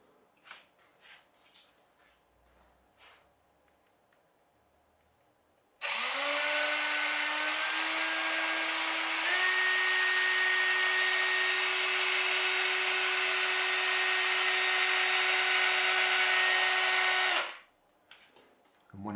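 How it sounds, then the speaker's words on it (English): An electric drill fitted with a hook whirs steadily for about twelve seconds while twisting jute string into rope, its motor pitch stepping up once partway, with faint handling knocks before and after. "I've got a hook on my drill"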